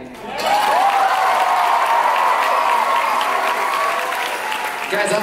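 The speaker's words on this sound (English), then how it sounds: "A round of applause for our amazing, amazing stage crew tonight." A theatre audience applauds the stage crew at a leadership congress show, a dense, loud wash of clapping that swells quickly and holds steady for several seconds, with a few cheers mixed in before it tapers at the end.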